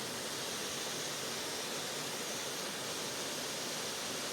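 The Hurkalo waterfall near Korchyn in the Skole Beskids of the Carpathian mountains pours with a steady, even roar of rushing water that fills the scene without pause.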